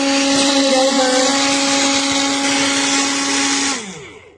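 A MIAOKE portable mini blender runs steadily at a loud, even whine for several seconds, then winds down and stops.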